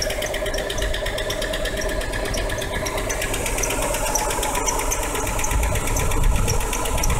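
A Buick engine running roughly, suspected of a blown head gasket, with a fast, even mechanical clatter that goes on without a break at moderate volume and has no talk over it.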